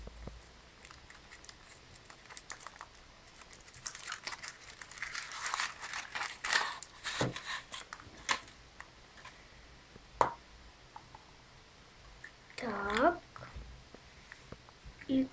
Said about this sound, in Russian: я открываю вот такой шоколадный шарик Чупа Чупс